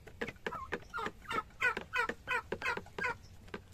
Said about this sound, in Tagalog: Yung pabo ko ngayon